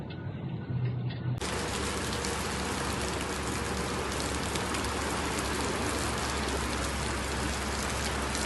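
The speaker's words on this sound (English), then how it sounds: "Residents reported a massive downpour" Heavy rain pours down in a massive downpour during a storm in Khabarovsk, a dense, steady roar of water filling the air after a brief quieter moment at the start, loud and continuous.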